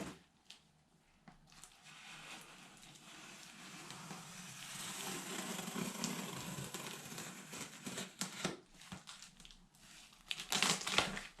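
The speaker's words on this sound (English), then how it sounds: "I'm going to cut this open and show you guys what it looks like." A blade cuts open a large cardboard box holding a Lionel Vision Line Big Boy train set, starting with faint scratches and building into sustained scraping and crinkling, then sharp, close tearing and rustling bursts near the end.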